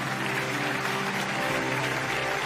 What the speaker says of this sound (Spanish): Alguien tiene que aplaudir y celebrar más que eso.